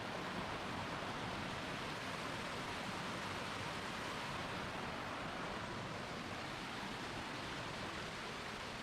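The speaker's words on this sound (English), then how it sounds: "Here's that river" A jungle river on the Gunung Berembun hiking trail rushes steadily in a forest clearing, a dense, unbroken roar of flowing water with no voices.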